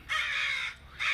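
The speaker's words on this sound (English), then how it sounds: "and crows up above." Crows call from overhead above a backyard vegetable garden of sweet corn and dent corn, two loud harsh caws, the first long and drawn out, the second following after a short pause, with no other sound.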